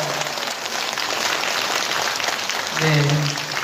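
Warm, sustained applause from an audience of participants at a senior job-training session in a community center hall, a dense steady clatter of many hands, with a voice briefly speaking near the end.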